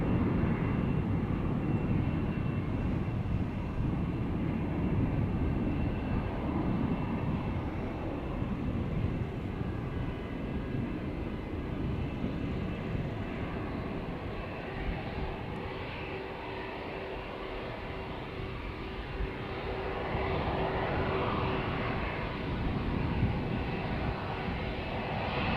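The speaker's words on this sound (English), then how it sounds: "British Airways flight 431 A319 to London Heathrow" A British Airways Airbus A319 jet departs Amsterdam Schiphol Airport, its engines a loud, steady, broad roar held for the whole stretch, close by, with no voices.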